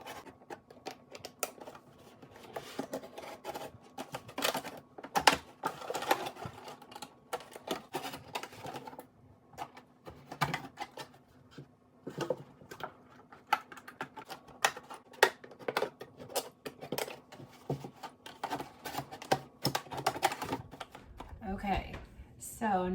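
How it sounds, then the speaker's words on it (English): Plastic milk jugs being cut, played back sped up, give a busy run of quick crisp snipping and crackling plastic clicks that continues without pause for the whole stretch. "I'll speed it up a little bit so you don't have to watch something boring like me cutting milk jugs"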